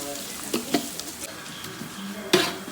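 Sliced onions frying and being stirred in a pan for Palakkad-style chicken biryani, a soft low sizzle broken by a few scrapes and clinks of the spoon, with one sharper clatter near the end.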